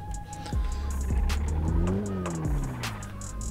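A Renault Stepway drifting in City Car Driving: engine revs rise and fall in sweeping pitch while tires squeal briefly, with a few sharp clicks over a steady low drone.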